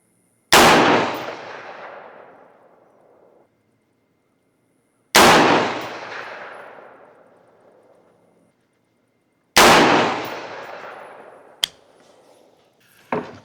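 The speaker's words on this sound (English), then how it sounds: "So we're gonna shoot a 3-shot group here and see how it is." Three sharp rifle shots ring out several seconds apart at a ranch, each loud crack trailing off into a long fading echo, followed by a faint metallic clink.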